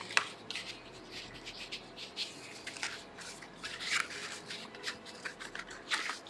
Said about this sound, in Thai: พับลิ้นเข้าไป พับด้านสั้น ทับลิ้นเอาไว้